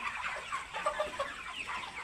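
Several 38-day-old poultry broiler chickens cluck and chatter close by in a busy, overlapping flock, with no one talking.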